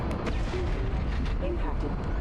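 Weapons fire in the video game Mass Effect 2, a dense, continuous rumble of heavy booming blasts mixed with game voices speaking over the din.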